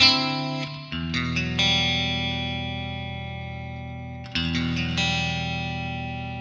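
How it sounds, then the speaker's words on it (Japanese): An electric guitar played through AmpliTube 5 CS sustains clean chords that ring out with a splashy, metallic spring reverb tail, struck a few times and left to decay. "スプリングリバーブが効いていますが"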